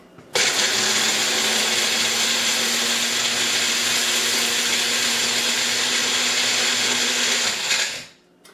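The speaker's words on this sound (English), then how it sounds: "Now we're going to put it on our blender" A blender grinds wild rice into flour, starting abruptly into a loud steady whirring roar that holds for about eight seconds before winding down.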